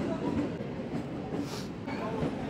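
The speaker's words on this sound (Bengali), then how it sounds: "এই দিকে ট্রেনের এই যে লাইট পড়ে গেছে, ট্রেন ঢুকছে, সাদা হয়ে আছে, ট্রেন ঢুকে গেল" A train pulls into a railway station with a steady, moderately loud rumble of wheels and carriages that rises slightly midway, with faint background voices.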